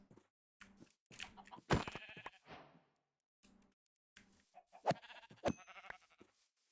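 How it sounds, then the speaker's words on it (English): Several sheep in a video game bleat in quick, uneven bursts with short pauses between, a few calls louder and nearer than others. "Why is there so many sheep? They're so annoying."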